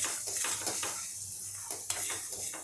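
Drumstick bhurta with red chili powder is stirred in a pan, a light sizzle under repeated clattering scrapes of a utensil against the metal, in short bursts with a brief lull midway.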